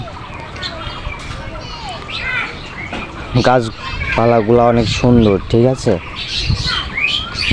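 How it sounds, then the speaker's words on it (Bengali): Assorted birds call in a leafy outdoor setting in the morning, a mix of chirps and squawks scattered throughout, partly under a nearby person talking. "নানান রকমের পাখি ডাকছে অনেক ভালো লাগছে"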